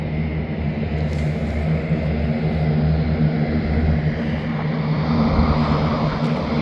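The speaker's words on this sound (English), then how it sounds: "You can see the flight coming here. Towards the end of the runway and it's going to take off now." An airplane on the Charlotte airport runway rolls for takeoff, a loud steady engine roar with low rumble that holds constant and builds slightly, heard from nearby.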